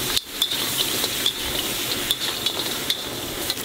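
Crab juice hits a hot wok of stir-fried crab with ginger and scallion, giving a steady close sizzle broken by sharp clinks of a metal spatula scraping and tossing, with no talking.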